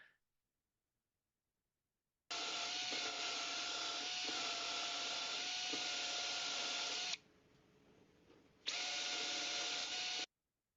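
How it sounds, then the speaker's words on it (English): Electric drill whirring steadily in a long continuous run, cutting out briefly to a faint hiss before resuming, loud and close with no voices, an AI-generated drilling recording. "drilling, which I'll play"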